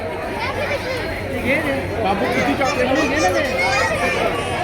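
Dense crowd chatter fills a busy stall at Mahabaleshwar, a steady babble of many overlapping voices close by, with no quiet moments.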